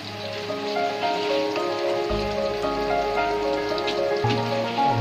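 Finely chopped onion, ginger and garlic fry in oil in a pan for a rice dish, giving a dense, continuous crackling sizzle like rain. Sustained musical tones play underneath throughout.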